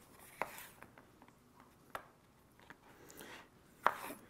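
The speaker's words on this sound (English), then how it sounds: "I will take the whole side off the pepper here." A knife slices the whole side off a pepper on a cutting board, giving a few quiet, sharp chopping taps spaced irregularly, close and alone.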